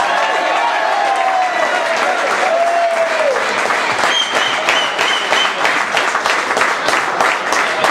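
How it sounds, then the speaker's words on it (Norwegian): A crowd at a promotion celebration party claps hard and steadily for the team, with shouted cheers and whoops rising over the dense, loud applause. "Så en stor applaus til gutta!"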